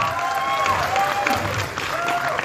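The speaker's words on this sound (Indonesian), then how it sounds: "berikan tepuk tangan dong, yuk." Audience applause at an Indonesian film event for the horror movie Kisah Tanah Jawa: Pocong Gundul, a steady wash of crowd clapping throughout with a faint voice and a tonal hum beneath.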